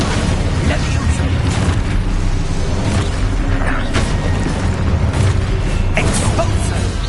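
Explosive spells cast during combat in the video game Hogwarts Legacy: a dense, continuous run of loud booms and blasts layered over a rumbling battle din, with a voice faintly present.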